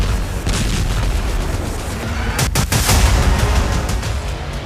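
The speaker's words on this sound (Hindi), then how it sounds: "इजराइल ने लेबनान पर ऐसे बम बरसाए" Bombing in Beirut, Lebanon, with a heavy rumbling roar and a sharp cracking blast near the middle, followed by sustained low booming and rolling debris noise, loud and close.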